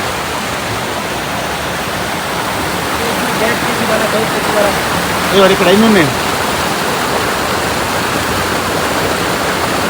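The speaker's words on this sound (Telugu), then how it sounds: "ఈ విలేజ్లోని చూడండి అలా కంటిన్యూస్గా వాటర్ రన్" Water runs continuously through trout ponds in a Kashmir village, a loud, steady rushing wash close by, while a person briefly speaks over it midway.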